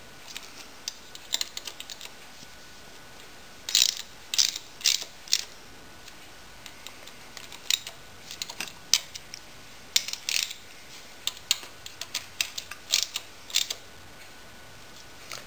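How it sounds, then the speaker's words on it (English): A ratchet wrench works on a Yamaha V-Max engine assembly, giving bursts of sharp rapid clicking that come and go in short runs over a quiet background, fairly close, with no speech. "If I could seat that wrench"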